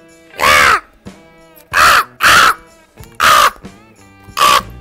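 A crow caws five times in loud, harsh bursts, close by and alone, with short pauses between the calls and the last two coming faster.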